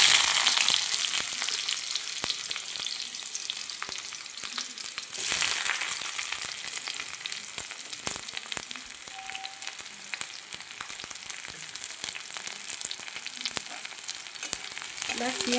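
Chopped onion sizzles steadily in hot oil in a pan while a pumpkin and prawn bharta is being cooked. The loud, continuous frying hiss runs close up and unbroken, with no talking.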